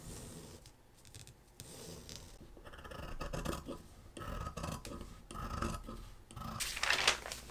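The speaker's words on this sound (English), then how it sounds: "I cut out 1 piece for the cone top and 2 pieces for the brim." Scissors cut through vinyl-backed fabric with a soft fuzzy side for a wizard hat, giving a close, uneven run of rasping snips and rustling that grows louder toward the end.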